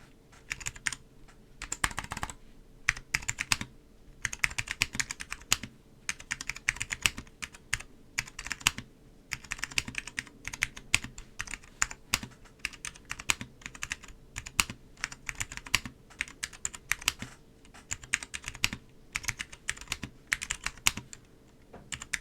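An ETAR87 mechanical keyboard fitted with Alps SKCM Brown switches is typed on slowly, giving irregular bursts of crisp clacky keystrokes with frequent pauses, close and alone.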